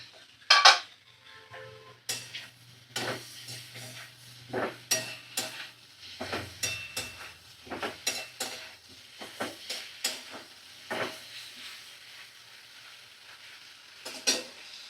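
Food fries in an uncovered pan on a home stove, mostly drowned out by a spoon stirring and scraping. Sharp metallic knocks and scrapes come in irregular bursts over a faint, quiet sizzle.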